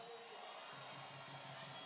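Crowd at a political rally in Arusha, Tanzania, cheering and shouting in a steady, distant roar that holds without a break.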